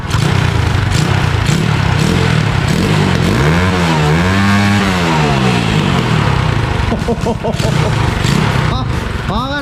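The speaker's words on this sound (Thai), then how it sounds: "ตอนนี้มันเครื่องมันติดแล้วกัน" A Honda Chaly motorcycle engine runs steadily and loudly after starting for the first time in two years, with one swelling rev in the middle and a person talking over the constant engine noise.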